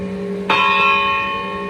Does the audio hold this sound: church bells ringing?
yes